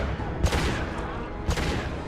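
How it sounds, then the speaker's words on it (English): Two punchy high impact gunshots from Mass Effect 2, about a second apart, each a loud blast with a short decaying tail over a dense game soundscape. "Firing a high impact shot."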